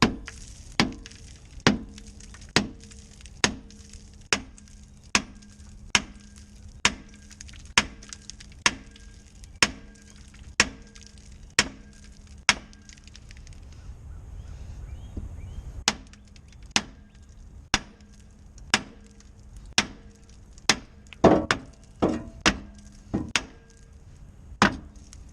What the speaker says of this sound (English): All you need to do is take a hammer and give it some side whacks.